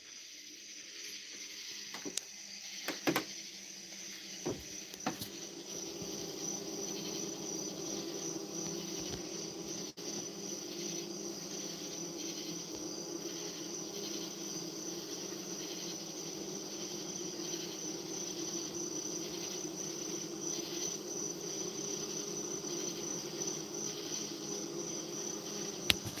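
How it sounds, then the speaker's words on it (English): Honeybees fanning at a beehive entrance at night to cool the hive, a steady droning hum held close to the hive throughout, with a few clicks and knocks early on. "let me put this phone near this beehive and see how loud these bees are"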